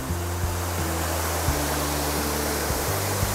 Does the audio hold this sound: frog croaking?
no